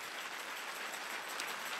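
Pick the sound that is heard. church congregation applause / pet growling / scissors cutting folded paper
church congregation applause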